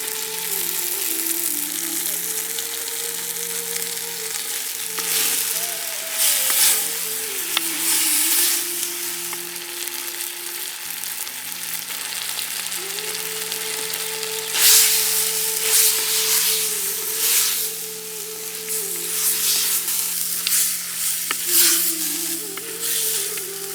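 Chicken meat sizzles and crackles steadily in a hot pan, with occasional scraping stirs, close and loud, no voices.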